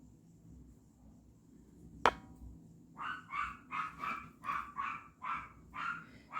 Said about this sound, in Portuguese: Desculpa pelo cachorro, gente, mas ele ficou sozinho, ele late.